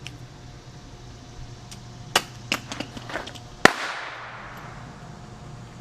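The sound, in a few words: VTG airsoft grenade with 9mm shell going off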